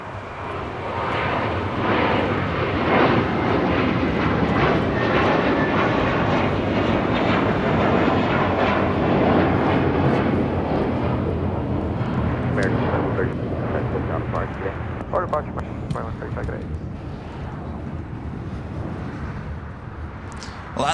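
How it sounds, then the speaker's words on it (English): Alaska Airlines Boeing 737 MAX 9 jet arriving at LAX from Spokane, a sustained loud engine roar that slowly fades over about twenty seconds, with someone talking over it. "Alaska Airlines flight 1279 coming up from Spokane, Washington. 737 MAX 9 delivered in June of last year"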